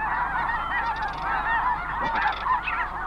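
Snow geese calling from an Arctic tundra nesting colony, a dense, continuous chorus of overlapping honks and yelps that holds steady at a loud level throughout.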